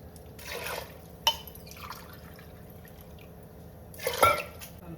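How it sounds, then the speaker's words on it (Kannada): Water is poured a glass at a time into a cooking pot for broken-wheat bisi bele bath, making short splashing bursts with quiet gaps between them. "3 ಗ್ಲಾಸ್ ಹಾಕೊಳ್ಳೋಣ ನೀರು"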